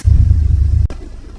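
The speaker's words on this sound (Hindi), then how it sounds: "ठंडी गाड़ी स्टार्ट की है।" A Suzuki WagonR engine idling just after a cold start, a loud, close, steady low rumble that cuts off abruptly partway through and leaves a quieter residual hum.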